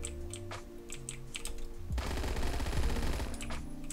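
A PPSH-41 submachine gun fires a long, rapid, dense burst in the video game Phantom Forces. The burst starts about halfway through, after quieter game ambience, and carries on loud to the end.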